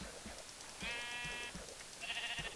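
Two short sheep bleats from Minecraft, each lasting under a second with a pause between them, set against faint game background sounds and low thumping.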